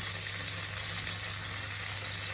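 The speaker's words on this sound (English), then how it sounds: "I've just got my pan heating up here with a bit of butter, and I'm going to add some garlic." Garlic sizzling in butter in a hot pan, a steady close crackling hiss that holds even from start to end with no talk.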